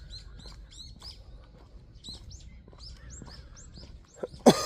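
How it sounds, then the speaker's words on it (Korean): Small birds chirp in quick bright bursts during a morning walk, with a faint scuff near the end and otherwise quiet surroundings. "그래도 아침에 이렇게 새소리 들으면서"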